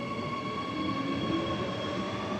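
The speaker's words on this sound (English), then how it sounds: "off goes the train just to terminate one more stop at Claremont" A train departs a station one stop short of Claremont, giving a steady rumbling roll with a faint squealing whine held throughout, moderately loud and continuous with no voices.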